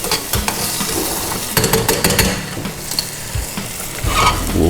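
Chopped onion sizzles steadily in a hot pan for wild turkey enchiladas, with a spoon scraping and stirring through it in several short bursts, close up and fairly loud.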